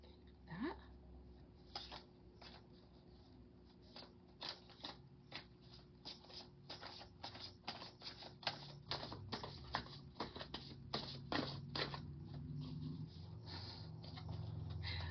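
Oracle cards being shuffled by hand at close range: a run of quick, crisp papery flicks and riffles that grow denser and louder toward the end, with no talking over them.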